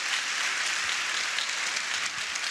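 Studio audience applauding during a Turkish talk show discussion about book prices, a steady, dense wash of clapping that holds evenly throughout with no voices over it.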